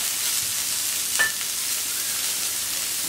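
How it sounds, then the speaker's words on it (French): Small vegetables for a chow mein with noodles cook on a hot plancha, giving a steady, broad hiss of sizzling with one brief clink near the middle, even and moderately loud, no voices. "Donc je mets à cuire tous les petits légumes de la plancha de nouilles asiatiques."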